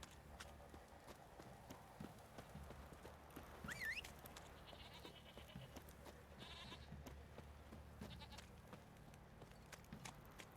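Horse hooves clip-clop steadily through a rustic outdoor scene in the Witcher 3 video game, with sheep-like bleats and mixed ambient game sounds around the trotting rhythm.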